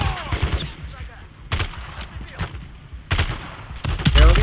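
Bursts of automatic gunfire in the video game Call of Duty: MW3, on the Highrise level, come in several loud clusters separated by short pauses, with game sound in between.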